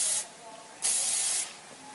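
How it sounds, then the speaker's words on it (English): Moroccan Oil hairspray sprayed onto the ends of curled hair, three quick aerosol hisses close to the mic, the first short and the second and third longer bursts with brief pauses between. "I normally give it a spray with, I use Moroccan oil hairspray"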